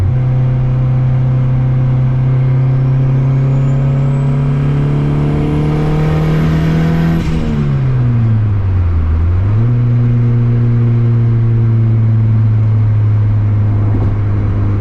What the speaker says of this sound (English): GT3076R sounds so good on this thing.